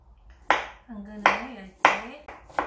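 A kitchen knife slices a carrot into thin pieces for a fried-snack vegetable filling, giving four crisp, evenly spaced cuts against the board, close and clear, while a voice talks softly between the strokes.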